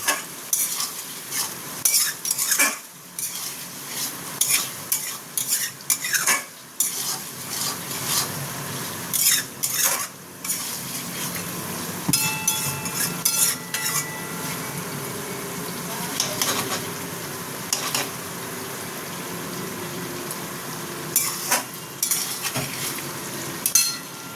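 Chili chicken with soy sauce is stirred in a sizzling pan, a utensil scraping and clinking against the metal in irregular bursts over a steady frying hiss, close up with no voices.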